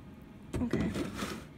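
Lactose-free milk pours from a carton onto Oreo cereal in a bowl, a short splashing gush that starts abruptly and keeps flowing for about a second.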